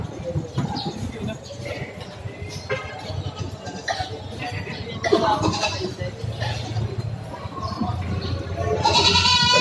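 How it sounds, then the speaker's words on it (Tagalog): Native goats at a market with their large 80-kilo goat nearby bleat several times amid a noisy crowd, their cries mixed with people talking and laughing close by. "Ayan, ang malaking kambing."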